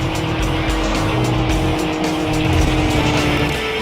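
A Toyota Supra races in the video game Tokyo Xtreme Racer 3, its engine droning steadily and loudly throughout, with tires squealing at times.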